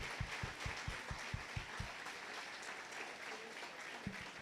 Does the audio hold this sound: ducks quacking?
no